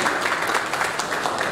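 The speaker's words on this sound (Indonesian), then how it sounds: "Kita berikan tepuk tangan yang meriah hadirin sekalian." An audience applauds at a launch and press conference for SCP 2020 in Jakarta, a dense, steady patter of many hands clapping at moderate loudness for a short burst.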